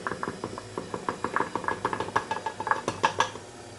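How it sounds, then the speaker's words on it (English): An electric stand mixer working pizza dough as flour is added, producing a rhythmic series of clacking, knocking beats from the bowl and beater, fairly close and steady, with no speech. "as you add the flour, you have to turn the speed up on the mixer a little because it'll start to bog again"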